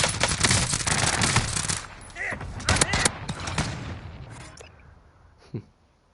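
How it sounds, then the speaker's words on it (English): Rapid bursts of video game gunfire, pistols firing in quick succession during an online shooter match, loud and dense for the first seconds, then thinning to scattered shots and a single late report. "there's a guy killing me with pistols"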